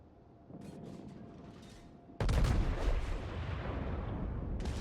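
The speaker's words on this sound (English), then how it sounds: "Next salvo should finish off that cruiser." The battleship Iowa fires a main-gun salvo in World of Warships, a sudden heavy boom with a rumbling low roar that lingers, following a quieter stretch with faint distant gunfire.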